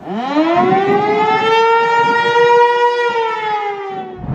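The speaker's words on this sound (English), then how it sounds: "we have tornado sirens" A loud civil-defense tornado siren in Nashville, Tennessee wails steadily, its tone rising at the start and holding a long sustained pitch with rich harmonics.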